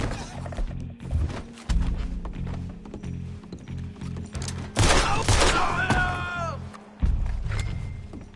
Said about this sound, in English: Oh, that'll be the pistol.